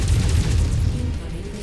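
A heavy, sustained rumbling boom from a mech blowing apart in MechWarrior 5: Mercenaries, loud and close, with low-end rumble filling the whole moment.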